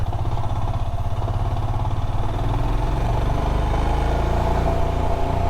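A motorcycle engine runs steadily and loudly throughout on a steep descent of the Serra do Rio do Rastro road in Brazil, a low rumbling drone with no breaks.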